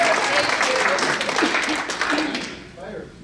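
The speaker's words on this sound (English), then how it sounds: "Got a round of applause for Becky." Audience claps for a volunteer named Becky at a talk, a brief burst of applause with some voices mixed in that tapers off toward the end, ending with a faint voice.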